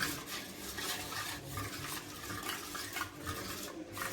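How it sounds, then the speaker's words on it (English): Rice flour dosa batter whisked with salt in a bowl, a steady scraping, slurping swirl that carries on without a break, close and moderately loud, with no one talking. "Whisk it again."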